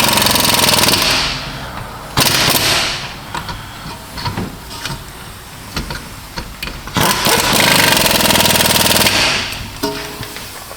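An impact wrench fires in several loud, rattling hammering bursts of a second or two each, with quieter pauses between, as lug bolts are snugged up on a Subaru wheel in a garage.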